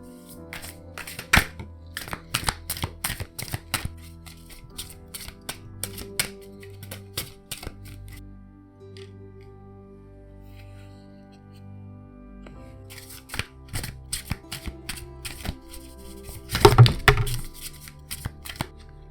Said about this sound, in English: I'm just going to start shuffling and we'll see what cards fall out